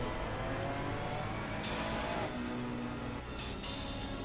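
Race cars accelerating off the line at the start of a race at Spa-Francorchamps, a dense, steady engine roar held at constant loudness throughout with overlapping engine tones and no speech.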